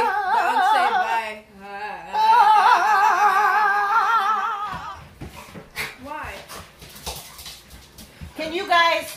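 High-pitched whimpering and yips with wavering tones, close by, continuing for several seconds before breaking into choppier sounds.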